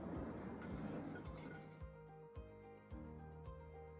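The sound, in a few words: mixing cake batter ingredients in a bowl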